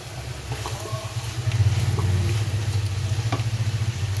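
Water goes into a pan of frying fish head and cabbage in a Bengali home kitchen, bringing a low bubbling sizzle that swells midway and continues steadily.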